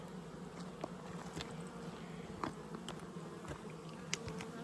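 Honey bees drone around an open hive while queens are being installed, a faint, steady buzzing broken by small scattered ticks and clicks.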